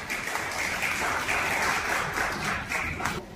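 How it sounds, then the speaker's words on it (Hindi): Crowd applause at the FAB Show 2024 garment supply chain expo in India, moderately loud clapping from many hands that swells and dips slightly across a few seconds. "जोरदार तालियां हो जाए for everyone."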